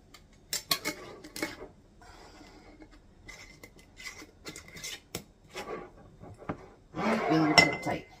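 A metal lid set onto the rim of a glass canning jar packed with bacon, giving scattered light clinks and brief scraping taps close by, with a louder cluster of clatter near the end and no talking.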